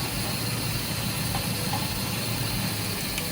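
A Toyota Hi-Ace with a 1RZ engine idles after carburetor repair, a steady low rumbling throb with light hiss, close and even throughout.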